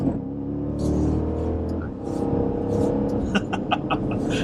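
A 2015 Jeep SRT with all-wheel drive accelerating hard on a test drive, its engine roaring loud and steady inside the cabin, briefly dipping before pulling again, with a few faint clicks and rattles toward the end.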